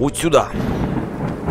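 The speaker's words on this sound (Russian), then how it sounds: "Каждый раз, когда я подхожу к этой комнате, гремит гром." Thunder in the video game Ziggurat, a deep rolling rumble that swells and lingers under a brief spoken remark.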